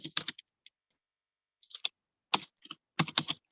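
Bursts of rapid keyboard typing, crisp clacking keystrokes in short clusters separated by pauses, close and distinct with no talking.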